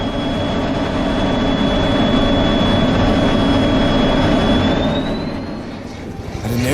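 Frecce Tricolori jets passing overhead at an air show, a loud continuous engine roar with a steady high whine that rises slightly before the sound fades near the end.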